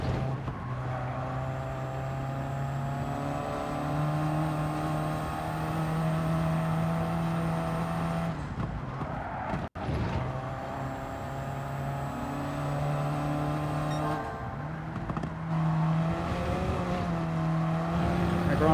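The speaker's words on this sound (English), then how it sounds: "Pops in the banks from the exhaust as you lift off the accelerator." Steady high-pitched race car engine drone in Gran Turismo 7 with a few brief breaks where the throttle lifts, giving short exhaust crackles and pops before it climbs again.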